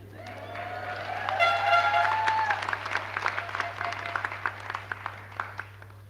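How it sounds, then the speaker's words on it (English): At a university graduation ceremony, a long tonal air horn blast rings out over cheering, followed by a crowd clapping with scattered sharp claps as the noise settles. "15 years of graduations, that's the first air horn."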